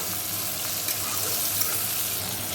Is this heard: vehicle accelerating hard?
no